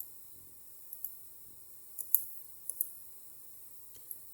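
Computer mouse clicks while working in Unreal Engine 5, a few faint, sparse clicks, some in quick pairs, spread over a quiet background.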